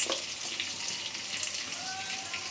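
Onion, chili and fish frying in a pan, a bright watery sizzle with a sharp burst at the start, then an even hiss under faint background noise.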